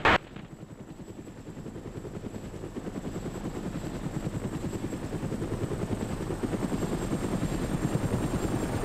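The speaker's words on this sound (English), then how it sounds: "Enemy! Chopper! 500!" An enemy helicopter in the video game ArmA Resistance thumps with a steady, rapid rotor chop that grows gradually louder as it approaches, following a brief sharp burst at the start.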